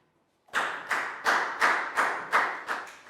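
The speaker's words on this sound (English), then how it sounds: "Big round of applause for Nadia." Seven quick rounds of hand clapping from a primary maths class applauding a pupil, evenly spaced sharp bursts starting after a half-second of silence.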